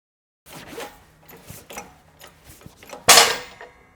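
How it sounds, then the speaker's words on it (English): A press tool forces an old car suspension compliance bushing out, giving creaking, ratcheting mechanical strains at an uneven pace, ending in a loud sharp crack as it gives way, close and without talk. "let's go ahead and press that out."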